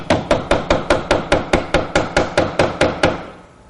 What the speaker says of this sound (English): The banana can be used as a hammer.